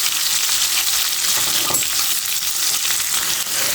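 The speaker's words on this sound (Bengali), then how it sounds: "এই তেলের মধ্যে আমি একটু আলুটাও ভেজে নেবো" Potatoes fry in hot oil left over from frying shrimp, giving a bright, steady sizzle that fills the scene, with one brief clink partway through. The sound is close and constant, with no talking.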